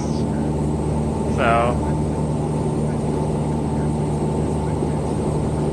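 A small propeller airplane drones steadily and loudly in flight, an even engine hum throughout, with a brief spoken word over it.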